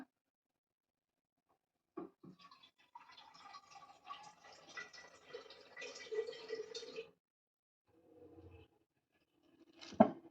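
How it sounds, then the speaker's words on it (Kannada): Water splashes and trickles into a pot of spinach and green chillies for dal for several seconds, then stops, followed by a few brief clinks and a sharp knock at the end. "ಸ್ವಲ್ಪ ನೀರು ಹಾಕೋಣ"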